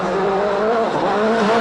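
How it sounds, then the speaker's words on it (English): A Ford World Rally car slides on loose gravel on a 2011 Mexico rally stage, its engine roaring loud and steady at high revs with a continuous scrabbling hiss of gravel, alone and close. "The Ford man's already fighting to control the car as he struggles for grip."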